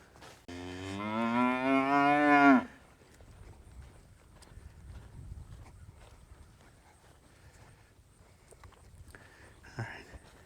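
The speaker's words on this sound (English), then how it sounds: "Here, cows. Come on, Larry." A cow on a farm gives one loud, drawn-out moo lasting about two seconds, followed by quieter shuffling and hoof sounds from livestock nearby.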